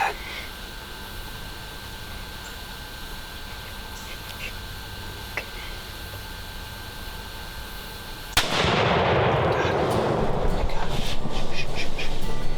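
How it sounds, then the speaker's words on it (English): A youth hunter's rifle fires while hunting from a blind in Kentucky: one sudden loud blast followed by a sustained burst of broadband noise and rustling. Faint quiet ambience comes before it. "I could shoot now."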